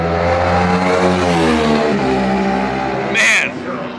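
Race motorcycles at the Loudon Classic qualifiers, New Hampshire Speedway, scream past on the track at close range, a loud sustained engine wail shifting in pitch as they go by, with a brief sharp burst near the end.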